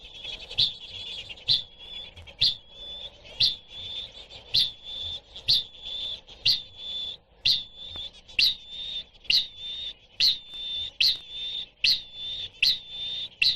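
A rare male bird calls at night with a long regular series of sharp, loud booming notes, each paired with a high whistle, repeating about once a second and standing clear against a quiet background.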